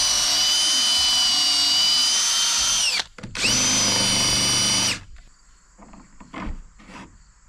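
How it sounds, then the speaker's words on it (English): Long 5/16 drill bit with a countersink boring a conical hole into the timber of an old wooden boat, its rotten port side under repair; two sustained, loud, close whining drill runs separated by a brief pause, then quieter handling noises. "So I've got the long 5/16 drill bit, got a countersink, which will create that conical hole."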